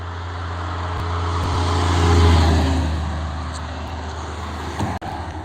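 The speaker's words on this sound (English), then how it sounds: "watch the trucks go by." Trucks passing on a mountain road beside a rural farm stand, a low engine rumble swelling to a peak midway and fading, with a brief sharp knock near the end.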